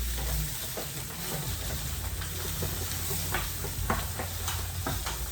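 Egg frying in a little oil, a steady dense sizzle with scattered crackles and pops running throughout at close range, no talking.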